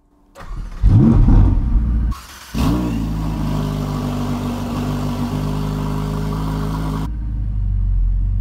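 A Ferrari 488 Pista cranks and fires with a loud bark and a quick rev, dips briefly, then settles into a loud, steady, raspy high idle close by.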